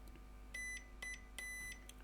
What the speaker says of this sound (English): You can probably hear the beep.